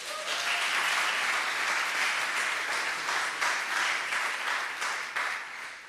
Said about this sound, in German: Ihr könnt die mal mit einem kurzen Applaus begrüßen.